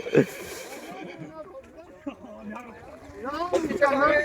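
A horse whinnies in a village crowd, a short neigh near the start and a louder, wavering one toward the end, with people talking and shouting throughout.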